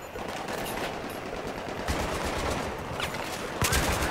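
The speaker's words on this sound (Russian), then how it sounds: "Да я не по своим стреляю. Я стреляю по ним." Battlefield 3 firefight: sustained rapid automatic gunfire and scattered shots crackle continuously, with a sharper louder burst near the end.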